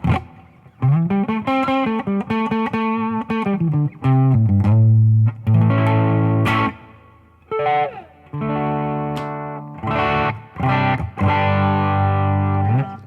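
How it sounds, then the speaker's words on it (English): Distorted electric guitar through a Line 6 Helix with impulse responses, playing chords and single notes with a reverb wash, loud and close, phrases separated by short pauses. "I'm going to stop right there and throw on a reverb"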